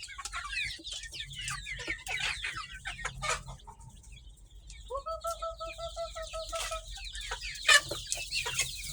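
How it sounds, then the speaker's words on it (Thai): Domestic chickens cluck and call behind a rural house, with repeated bird vocalizations layered over steady background ambience and a sharper squawk near the end. "ไก่บ้านหลาย"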